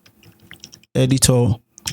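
Fingers type on a computer keyboard in a short run of soft, quick keystroke clicks. A person then speaks briefly over it.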